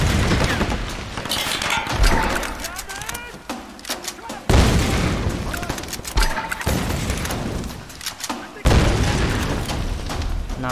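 Enemy gunfire in Tomb Raider (2013) rings out in loud bursts and booming shots, rapid volleys layered with deep blasts and clanking mechanisms, three sharp onsets punctuating a dense, continuous firefight.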